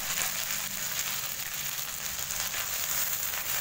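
Ginger garlic paste frying in a pan for palak paneer, a steady, close sizzle with bright crackling that holds evenly throughout, with no talking.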